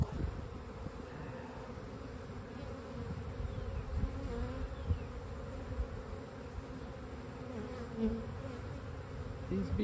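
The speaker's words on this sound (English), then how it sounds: "These bees are busy," A dense swarm of honey bees hums steadily up close at an open Layens hive, a continuous low buzzing with individual bees droning past.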